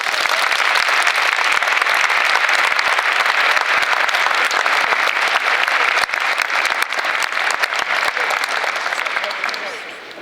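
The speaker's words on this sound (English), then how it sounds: "So without further ado, if you join me in applauding for Amelia Pascal." An audience at a school signing day applauds loudly and steadily, the clapping continuous and close before tapering off at the end.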